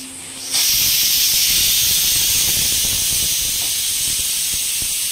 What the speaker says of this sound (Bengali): প্রেশার কুকার ডাক দিচ্ছে, ভাত হয়ে গেছে।